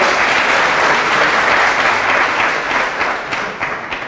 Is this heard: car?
no